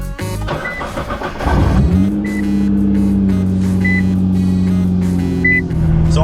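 A Nissan R35 GTR engine fires and revs with a sharp rise, then settles into a steady, loud, close drone as the car gets rolling.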